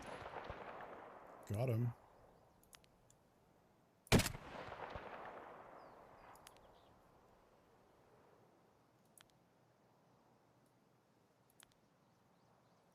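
Gunshots in Escape from Tarkov, a loud close shot with a long echoing tail, preceded by a short burst and followed by faint distant reports, with brief speech.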